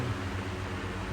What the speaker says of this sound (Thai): เสียงพัดลมก็จะดังหน่อย